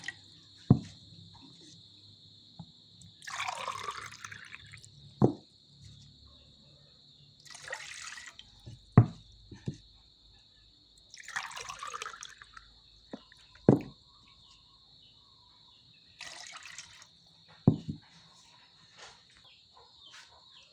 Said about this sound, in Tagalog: Lagyan ng 3 basong tubig.